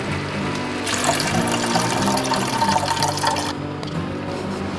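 Beef broth poured into a pot of Oaxacan mole, a steady splashing liquid pour running for about three seconds, louder than the quiet kitchen before and after, with no talking.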